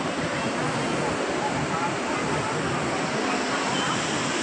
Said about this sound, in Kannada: ನೀರು ಸೌಂಡ್ ಅಂತೂ ತುಂಬ ದೂರಕ್ಕೆ ಕೇಳಿಸುತ್ತೆ